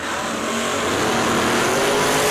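A race car engine, likely a dragster-style buggy at a drag racing event, roars loud and sustained throughout, a steady high-pitched mechanical din with no speech.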